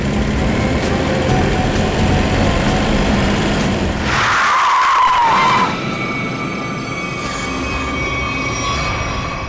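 A car skids hard to a stop, a long high tyre squeal rising out of steady road and engine noise close by, then the noise settles to a lower hum.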